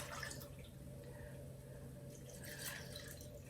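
Liquid fire cider drips and trickles through a strainer in a continuous low, wet patter over a steady background hum, with no talking.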